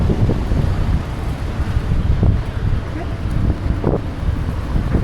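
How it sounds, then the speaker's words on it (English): Strong gusty wind buffeting the microphone in Pattaya, Thailand, a constant low rumble and roar that rises and falls throughout. "Windy a little bit."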